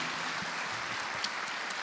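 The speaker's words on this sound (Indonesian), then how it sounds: "tepuk tangan dulu boleh ya." Audience clapping at an indoor discussion event in Indonesia, a dense, even patter of applause throughout with a few sharper claps standing out, no speech over it.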